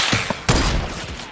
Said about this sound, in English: I hit that sniper shot.